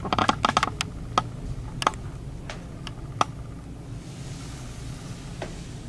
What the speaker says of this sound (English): This will be the way the dealer spreads the deck for verification.